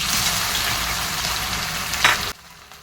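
Taro root (arvi) fries with spices in a pan, giving a steady, close hiss and crackle with a brief stir, then the sizzle drops sharply to a quieter background.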